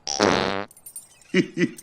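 A loud, buzzy fart rips out as a comic sound effect in a film, followed by two short, softer sputters.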